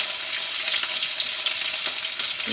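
Ginger, garlic and green chili frying in hot oil in a pan for a chicken curry, a steady, loud, close sizzle with faint stirring.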